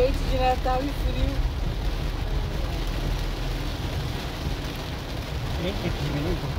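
Steady rain on a car in Campinas while driving: a constant dense hiss and patter close around the vehicle, with faint tones and background chatter beneath.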